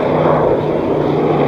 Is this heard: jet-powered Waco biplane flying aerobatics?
yes